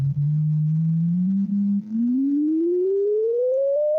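A pure electronic tone from a frequency generator holds low and steady, then glides smoothly upward in pitch over a few seconds, loud, clean and alone with no voices.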